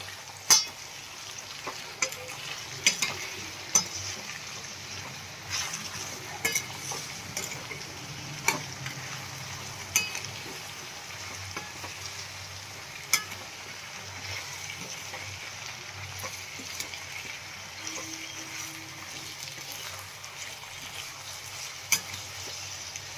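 Mixed vegetables for undhiyu, seasoned with salt and turmeric, are stirred in a pan, giving a low steady sizzle with repeated sharp clicks and scrapes of a spoon against metal, close and without talk.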